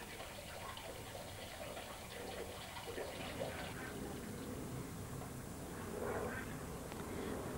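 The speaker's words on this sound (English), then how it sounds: "If I push it under the water and squeeze, you can see the air bubbling out." A floating water plant is pushed underwater and squeezed, releasing a soft, continuous watery bubbling and churning that stays quiet and close throughout, without speech.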